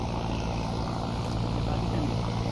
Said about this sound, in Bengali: বিশাল একটা ট্রলার এসে পড়লো আমাদের সামনে